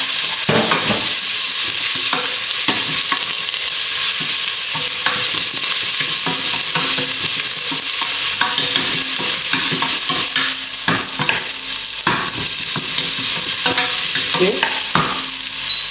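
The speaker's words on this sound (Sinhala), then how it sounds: "එතකොට මේක හොඳට ෆ්‍රයි කරන්න ඕනේ විදිහ." Curry leaves fry in an oily pan without any seasoning, giving a loud, continuous sizzle that never lets up, with repeated scraping and clacking of a spoon as the ingredients are stirred close by.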